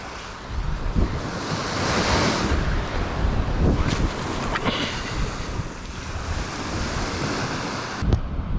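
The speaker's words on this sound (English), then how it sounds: "the wind is definitely picking up" Wind gusts across an open beach during a fishing trip, a steady rough rush buffeting the microphone with waves washing underneath, loud and continuous for about eight seconds with no talking.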